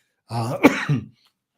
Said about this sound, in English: as you can hear, I'm still fighting back this cough